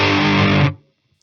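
An electric guitar plays through a Pepers Pedals Dirty Tree boost pedal into a Harley Benton Mighty 15 amp, giving a loud, distorted sustained chord that cuts off abruptly into silence.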